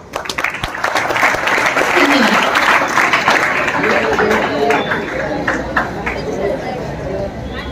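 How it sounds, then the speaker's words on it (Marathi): An audience at a school felicitation ceremony in Chalisgaon bursts into sustained, loud clapping that swells and then gradually thins, with crowd chatter and a speaking voice mixed in. "वाह, टाळ्या।"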